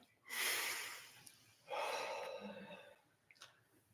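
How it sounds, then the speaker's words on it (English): Guided deep breathing during a church service, with two slow, audible breaths close to the microphone, a long inhale followed by a longer exhale, then a faint short puff, in a quiet room. "Please breathe with me."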